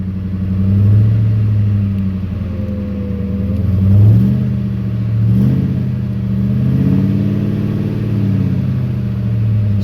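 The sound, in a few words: car engine with BBK mid pipe and MBRP catback exhaust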